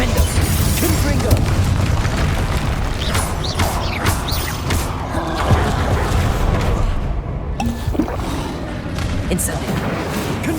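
Confringo and Incendio spells in Hogwarts Legacy erupt in a dense, continuous run of fiery booms and crackling blasts with mechanical clanks, loud and close, while a voice speaks over the combat.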